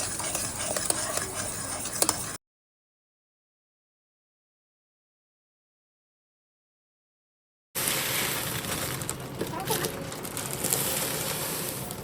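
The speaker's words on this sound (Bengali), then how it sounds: "এখন লাস্ট পর্যায়ে এখন অনবরত নাড়তে হবে" Puffed rice being stirred with sticky jaggery in a pan, a steady scraping, rustling stir with faint sizzle, heard in two stretches separated by a gap of silence, no one talking.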